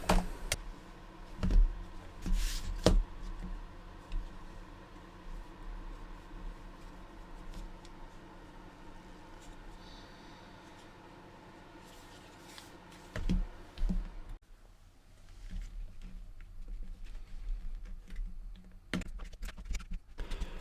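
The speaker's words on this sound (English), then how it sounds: "so I have to break the case open." A glued plastic laptop battery pack case from an ASUS laptop is forced open, giving sharp scattered cracks and snaps, a cluster early on and more later, over a faint background of quiet handling noise.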